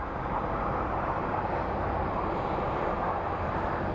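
A Boeing 757 lands at Phoenix Sky Harbor International Airport, heard as a loud continuous roar of engine and rushing air that holds steady throughout, with no talk.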